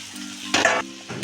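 Finely chopped potatoes sautéing in a pan, a close sizzle broken by two bursts of stirring and scraping.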